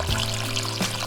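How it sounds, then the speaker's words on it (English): Spring water pouring from a pipe driven into the ground at a creek source, a brief close splashing gush with steady trickling texture. "A pipe shoved into the ground to release water from a spring."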